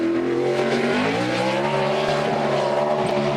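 A stock car's racing engine roars steadily nearby, its pitch rising and shifting through gears as the car speeds around the track, with no talking.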